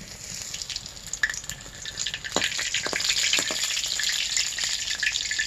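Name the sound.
banana flower pakoras deep frying on clay stove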